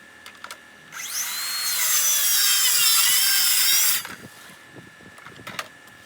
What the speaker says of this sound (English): We're going to be using a 36-volt plunge saw.